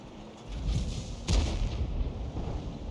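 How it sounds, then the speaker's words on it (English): A tank cannon fires once in World of Tanks, on the AMX 13 F3 AM self-propelled gun, a single sharp heavy boom standing out from a continuous rumbling battle-noise bed. "Fires the round in, gets a hit this time"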